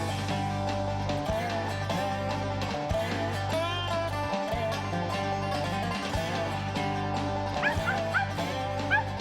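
A squirrel hunting dog in the woods at Caney Creek WMA, Scott County, Mississippi, barks, yips and whimpers again and again, loud and excited, with short pauses between bursts.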